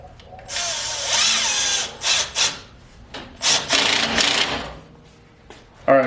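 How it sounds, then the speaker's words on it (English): Short bursts of ratcheting and scraping come from tightening a part with hand tools, loud and close, broken by brief pauses. "Just found something that I need to tighten."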